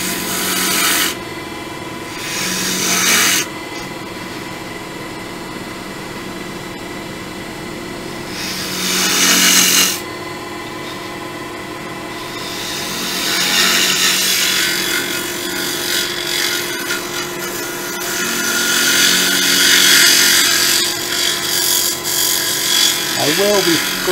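A hollowing tool cuts into spinning wood on a lathe while shaping the inside of a decorative turned box, producing rasping, scraping bursts of varying intensity over the motor's steady hum, with someone talking intermittently.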